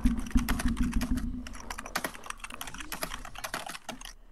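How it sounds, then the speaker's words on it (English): Rapid keyboard typing on a computer keyboard, dense irregular clicks and key taps, heaviest at the start and continuing steadily throughout, close and fairly loud with no voices. "Ben is typing an angry email"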